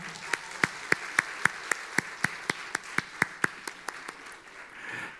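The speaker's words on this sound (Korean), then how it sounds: "자, 전달할 때 우리 격려 박수 해줍시다." A church congregation at a Sunday worship service claps in unison to encourage someone, a steady, rhythmic beat of crisp claps that gradually softens and trails off into room noise.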